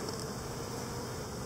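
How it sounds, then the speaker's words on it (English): Honey bees drone steadily inside a hive with brood chambers, a dense, continuous buzz with no voices. "All of our bees on here."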